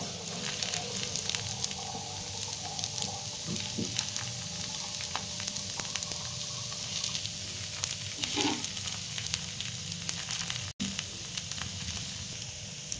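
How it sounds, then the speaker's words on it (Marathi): A dosa cooking on a pan over a medium gas flame, giving a soft, steady sizzle and hiss with faint occasional ticks, close but fairly quiet, no voices. "मीडियम गॅसवरच आपण आपला डोसा शेकायचा आहे।"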